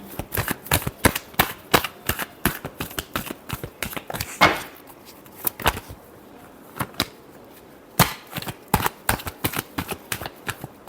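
Tarot cards being shuffled by hand: a rapid run of crisp, close card slaps and riffles, a brief pause midway, then another burst of quick shuffling.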